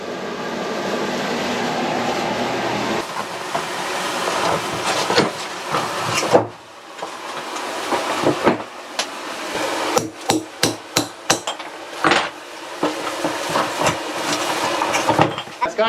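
A hammer breaks out a shower curb during bathroom demolition, first a long grinding scrape, then a run of sharp, loud, separate blows at irregular intervals, close up and alone.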